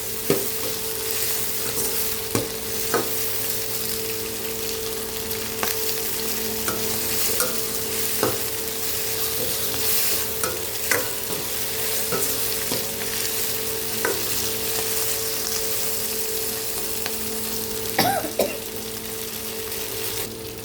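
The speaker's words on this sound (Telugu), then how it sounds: "పచ్చివాసన పోయిన దాకా వేపుకుందాం పండు మిరగాయ." Red chillies fry in a pan with a steady, continuous sizzle, punctuated by occasional stirring clicks and scrapes of a utensil, close and moderately loud.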